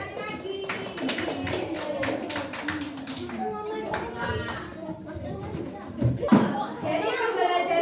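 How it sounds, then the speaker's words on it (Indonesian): Children in a primary school classroom clap together in a busy, uneven burst of applause lasting several seconds, with young voices and a teacher's speech mixed in over the clapping. "Oke, tepuk tangan sekali lagi."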